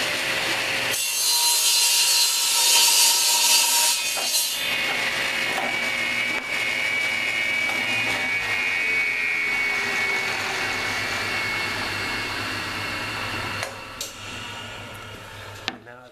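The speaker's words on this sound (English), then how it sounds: "Okay, I've got my table saw set for 3 7/8," A table saw cuts a strip from scrap OSB, its steady whining blade and grinding wood cut running loud and unbroken for most of the stretch before winding down at the end.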